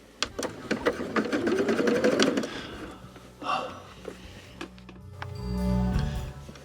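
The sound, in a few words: sewing machine free motion quilting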